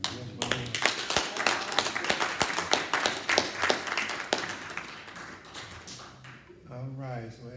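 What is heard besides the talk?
audience applause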